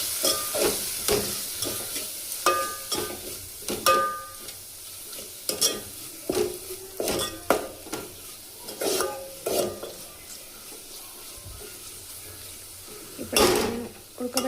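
A spoon stirs a tomato curry for drumstick (mullakaya) curry in a pan after chili powder and salt go in, giving a steady run of close scraping and soft clacks with a faint sizzle underneath, without talk.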